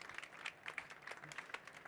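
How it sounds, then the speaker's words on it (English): Faint applause from a conference audience welcoming a panelist onto an innovation stage, a brief, distant patter of many hands clapping unevenly. "big applause for Ludovic, please"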